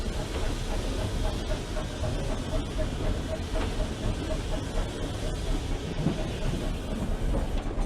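A British steam locomotive built for branch line work hauls an unfitted freight train at a slow, steady pace, giving a dense, constant rumble with wheel clatter and a faint hiss heard from on board, while a voice talks over it.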